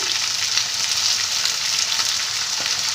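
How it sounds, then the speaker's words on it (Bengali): Ridged gourd and long beans frying with turmeric in a pan, a dense, steady sizzle close by with no voices. "এবার আমি ভালো করে এটাকে ভেজে নেব"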